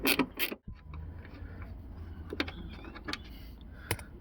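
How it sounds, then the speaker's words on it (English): Metallic ratcheting and creaking as the upper nut of a seized door hinge is removed from a Jeep Grand Cherokee, close irregular clicks and scrapes. "Now we're gonna remove upper nut."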